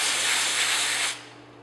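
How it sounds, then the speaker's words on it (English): Canned air sprays out the bobbin case area of an SWF ET1501C sewing machine in one steady, close hiss lasting about a second before cutting off, leaving a faint background hum. "we will take our canned air and go ahead and spray that out"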